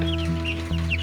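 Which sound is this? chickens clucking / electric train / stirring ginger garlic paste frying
chickens clucking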